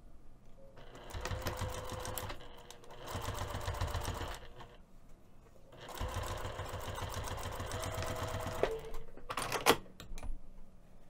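Close, steady whirring from a sewing machine running a quarter-inch seam along the lining of a Windsor box pouch with a lace zipper comes in several long bursts, broken by short pauses and starts and stops.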